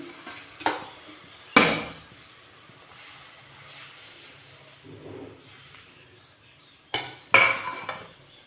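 Drumstick pieces tumble into a cooking pot with a few clattering knocks spread across the clip and quiet gaps between them.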